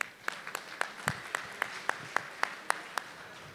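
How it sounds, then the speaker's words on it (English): A small audience at a national convention gives a round of applause, heard as a thin, sparse run of distinct handclaps at a steady rhythm, fairly faint and distant across the whole stretch. "Can we have a round of applause for these people, please?"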